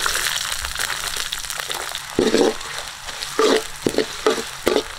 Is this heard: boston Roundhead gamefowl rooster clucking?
no